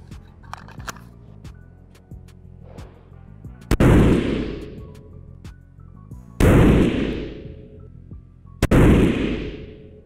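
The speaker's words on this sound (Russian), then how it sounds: "Еще 3 выстрела по нижней левой." Soft mechanical clicks, then three loud gunshots from a scoped carbine during scope zeroing, at uneven intervals, each booming and echoing before fading.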